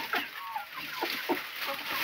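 Chickens cluck in short, scattered bursts over a steady hiss of background noise, fairly close by.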